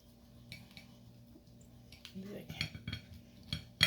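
A chicken shawarma roll being cut on a plate, with quiet clinks and scrapes of cutlery against the dish that grow busier toward the end, without talk.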